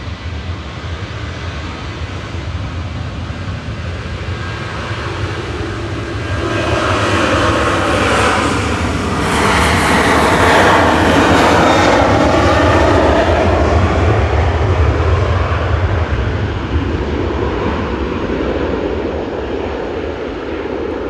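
A Ryanair jet departs Manchester bound for Tenerife South, its engine roar building from a steady rumble to a loud, sustained peak at mid-pass before easing slightly as it climbs away.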